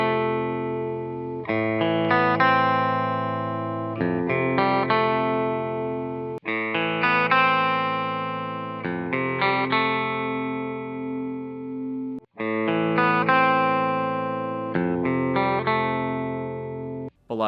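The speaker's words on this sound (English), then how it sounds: "I'm gonna do a few sound bites so that you guys can hear the different cabs and how they sound compared to each other" Electric guitar chasing a famous song's tone, played through several different speaker cabinets: loud, distorted, sustained chords ring out in repeated phrases, with short breaks between takes.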